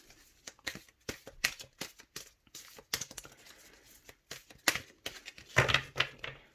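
Tarot cards are shuffled and cut by hand, a string of close, crisp riffling bursts and soft slaps in an uneven rhythm, with brief pauses between handfuls.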